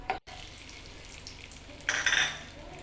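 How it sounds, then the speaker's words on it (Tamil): Cashew nuts frying in a pan for paal payasam, a steady soft sizzle and crackle that swells louder and brighter toward the end, with no talk over it. "முந்திரி பருப்பை வறுத்து எடுத்துக்கலாம்."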